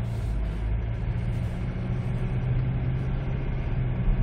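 A 2004 Kia Sorento engine pulls steadily under acceleration while driving, a continuous low rumbling drone from inside the cabin with no breaks or voices.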